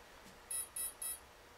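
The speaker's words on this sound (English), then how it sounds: "Now it's a double beep, which is 2 degrees in motor timing." An electronic speed controller sounds programming beeps for motor timing, three short high-pitched electronic tones in even succession, quiet and clean.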